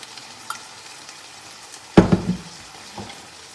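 Food frying in oil in a skillet, a sudden loud sizzling burst with clattering as it hits the pan, following a small tap earlier and a softer knock afterward, with no talking.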